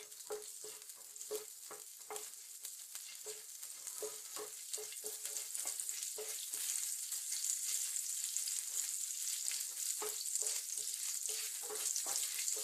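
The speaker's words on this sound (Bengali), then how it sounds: "জিরেটা ফুটছে" Cumin seeds and dried red chillies sizzle in hot oil for a Bengali taro curry, a steady bright hiss peppered with rapid crackles and pops that grows slightly louder over time, close by with no talking.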